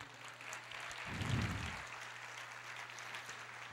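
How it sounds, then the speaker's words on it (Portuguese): A church congregation applauds during a Portuguese-language sermon, a faint, steady patter of many hands heard from a distance throughout. "Você pode aplaudir o Senhor?"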